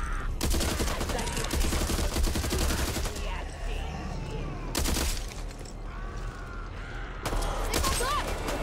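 Sustained automatic gunfire in Back 4 Blood, loud rapid bursts repeated in several waves with brief pauses between, over game sound effects and someone talking at times.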